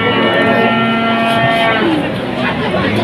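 Cattle low loudly and close by at a livestock market in Tuban, East Java. One drawn-out, tonal moo fills most of the three seconds over the faint background noise of the market.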